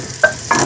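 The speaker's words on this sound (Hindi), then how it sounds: "ये प्याज मैंने ब्राउन होने के लिए रख दिया घी डाल के।" Onions fry in ghee in a pan with a steady sizzle broken by two quick stirring scrapes, close and loud, with no voices.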